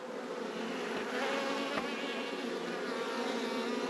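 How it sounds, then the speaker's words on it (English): A small number of honeybees hum around a nucleus hive, producing a steady, close buzzing drone that continues throughout without any talk. "Very small numbers of bees."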